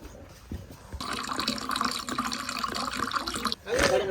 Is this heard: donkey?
no